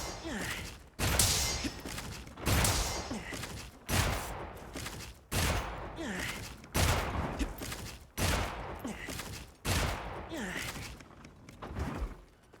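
Bowgun shots in Monster Hunter Wilds, a series of heavy booming blasts fired one after another at a regular rhythm, each shot followed by a short rumbling tail, loud and close.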